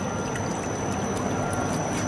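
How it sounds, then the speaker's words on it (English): Water pours and trickles steadily out of a screen press squeezing catfish skins, a constant splashing wash with machinery noise underneath. "We're still getting a lot of water dripping out of this."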